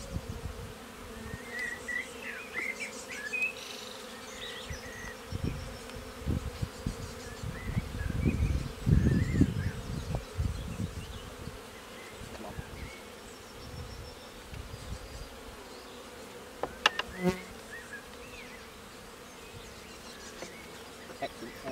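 Agitated honey bees buzz continuously around an opened hive as frames are switched around, a dense droning swarm that swells louder midway with some handling bumps and rustles beneath it.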